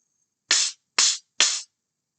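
Sand blocks rubbed together three times in an even rhythm, each a short, crisp, close scraping swish separated by silence.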